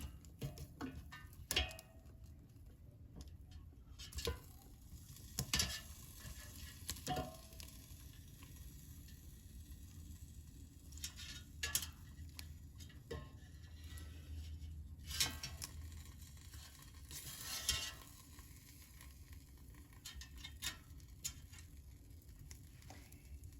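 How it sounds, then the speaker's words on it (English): Chicken kebabs flipped in an air fryer basket, soft sizzling and patter with scattered sharp clicks and taps of skewers and tongs, quiet and close, no voices. "let's flip the kebabs over so they brown more evenly"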